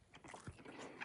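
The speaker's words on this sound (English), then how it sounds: "Hope you can hear those seeds crunching in my head." Crunchy seeds being chewed close up inside the mouth, giving a few soft crackling bites over a quiet background, with no speech.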